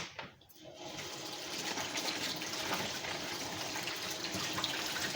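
Okra is washed under a running tap. After a short quiet moment, water gushes and splashes in a steady, moderately soft stream that continues to the end.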